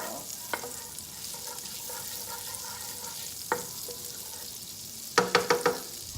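Finely chopped garlic softens in a hot pan for Cajun chicken Alfredo sauce, a quiet steady sizzle broken by a few scraping stirs of a utensil and a cluster of clinks near the end.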